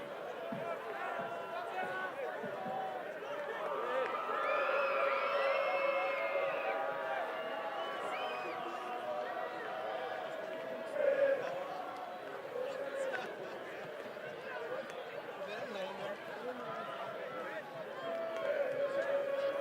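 Students in the Kingswood College home crowd roar and chatter steadily throughout a schoolboy 1st XV rugby match against St. Andrews College, a dense sustained wall of voices with commentary over it.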